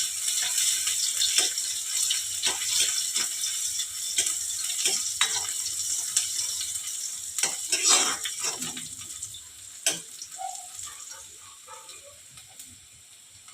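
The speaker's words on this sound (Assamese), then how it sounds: "পিঁয়াজখিনি যেতিয়া আধা ভজা হৈ যাব তেতিয়া তাত কালজিৰাকেইটা দি দিম" Sliced onions frying in a pan for a simple Assamese lunch, with steady sizzling and crackling and occasional sharp clinks of stirring, fading somewhat toward the end, with no talk.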